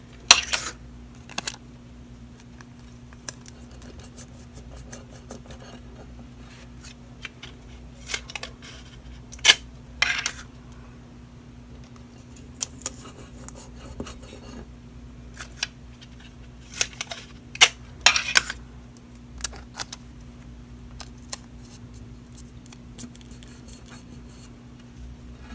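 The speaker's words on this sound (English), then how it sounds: "using some tape, you're going to tape the tower" Tape is pulled and pressed to fix a paper tower onto a plate, heard as scattered sharp tearing and crinkling bursts over a quiet room hum, close and alone.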